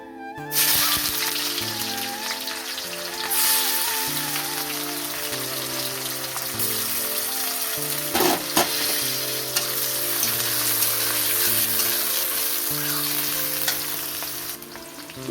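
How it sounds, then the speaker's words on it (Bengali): Chopped onions fry in hot oil with bay leaves, a continuous close sizzle and crackle with occasional stirring scrapes, steady and fairly loud, with soft background music beneath. "পেঁয়াজ ভালোভাবে ভাজা হয়ে গেছে"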